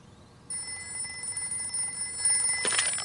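Telephone ringing in a Peppa Pig cartoon: a steady electronic ring rises at half a second and continues clearly, with a brighter burst near the end and no talk over it.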